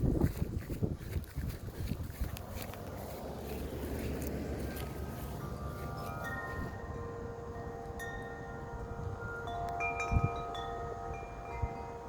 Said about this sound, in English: Huge winds.